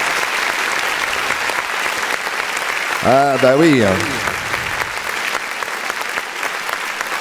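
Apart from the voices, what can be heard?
audience applause at a French music show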